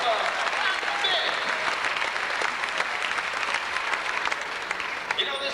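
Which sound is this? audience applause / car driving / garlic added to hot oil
audience applause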